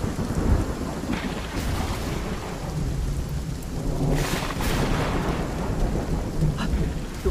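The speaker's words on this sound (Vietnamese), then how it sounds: "Mưa to quá." Heavy rain pours steadily onto surfaces while thunder rolls and rumbles, with a louder crack of thunder midway; no voices.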